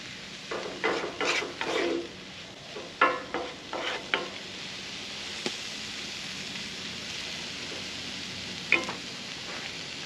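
Chili thick with chili powder stirred in a cast iron pot outdoors by a lake: a run of close, rhythmic scraping strokes early on, then a few isolated scrapes and clinks over a steady faint background hiss.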